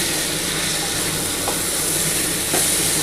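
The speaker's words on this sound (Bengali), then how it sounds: "এবার ভালো করে একটু নাড়াচাড়া করতে হবে।" Spices with cumin powder stir in a hot pan, giving a continuous close sizzle with a couple of soft scrapes from the spoon.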